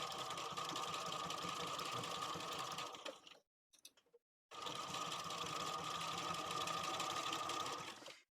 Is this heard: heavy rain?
no